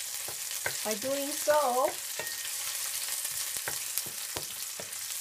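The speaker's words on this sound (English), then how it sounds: "let the oil get to the other side of the pot by stir frying first the meat halfway" Meat is stir-fried in hot oil in a pot, giving a steady close sizzle with scraping stir strokes, while a voice speaks briefly over it.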